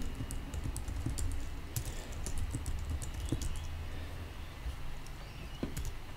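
A password is typed on a computer keyboard during a manual WordPress install, with rapid, uneven key clicks, close and crisp, plus a few louder taps and no voices.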